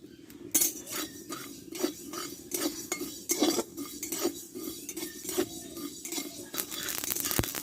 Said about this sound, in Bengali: এবার সর্ষেগুলোকে ভেজে নেবো